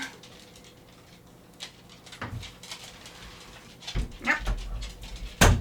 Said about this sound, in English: Sounds like my dogs want to come in here.